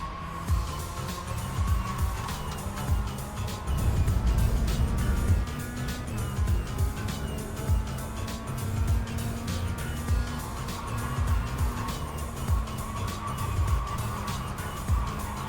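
Race cars in iRacing on a gravel-strewn track, engines droning and passing steadily, with rattling grit and tire scrub as one car nearly spins.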